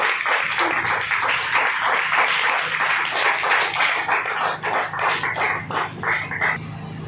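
A church congregation claps loudly and continuously after a sermon, a dense wash of applause that keeps up throughout and eases slightly at the end.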